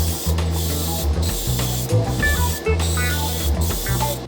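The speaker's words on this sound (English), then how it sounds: "lay our first coat of clear. I spray the entire hood" Steady hiss of a spray gun laying clear coat on a car hood, with a mechanical hum underneath, pulsing in short bursts as it sweeps back and forth.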